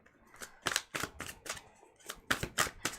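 A stiff tarot card deck being shuffled by hand, a series of close, sharp riffling bursts at an uneven rhythm with brief pauses between.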